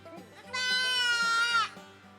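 Goats on a farm during hoof trimming and buck banding, with one long, loud, wavering bleat lasting about a second that rises clearly above quieter background noise.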